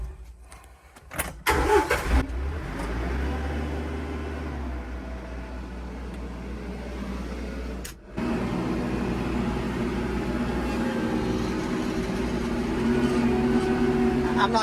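A tractor engine runs steadily while its hydraulic bucket tries to lift an old square-body truck. The close, loud drone dips for a moment near the middle, then holds firm and rises slightly.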